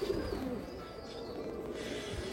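Abluk pigeons coo softly nearby, a faint, continuous low burbling with no voices over it.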